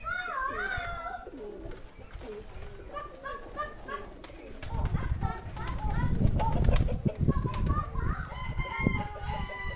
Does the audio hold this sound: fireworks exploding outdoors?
no